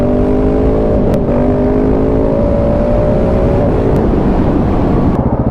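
Husqvarna 701 adventure motorcycle cruising on an open road, its engine a loud steady drone with shifting pitch and a few brief clicks, no talking.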